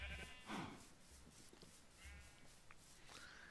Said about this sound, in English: sheep and cows over here.